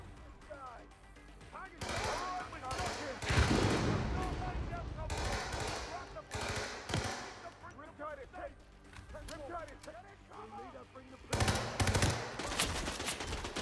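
Flash grenades and gunfire go off during Hitman 3 gameplay: loud, sharp bursts and bangs come in clusters, with someone talking over much of the action.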